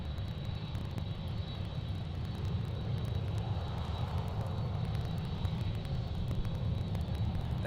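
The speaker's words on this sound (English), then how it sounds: "There goes the KLM 737." A KLM Boeing 737 spools up for takeoff at Amsterdam airport, heard from some distance as a steady, low, rumbling engine roar with a faint high whine and no talk.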